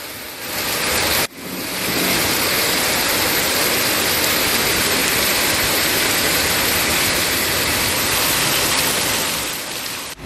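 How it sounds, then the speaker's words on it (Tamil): Heavy rain pouring over Coimbatore after more than an hour of downpour that flooded the main roads: a dense, steady roar of falling water that stays loud and continuous with one brief dip near the start. "இதேபோன்று கோவை மாவட்ட பேரூர், மாதம்பட்டி, ஆலந்துறை, வடவள்ளியிலும் கனமழை பெய்தது."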